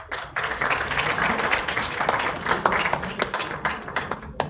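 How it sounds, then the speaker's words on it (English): Applause from a university student chapter audience at an investiture day event welcoming a new team, dense steady clapping filling the room throughout with no pauses. "Let's have applause for our new team."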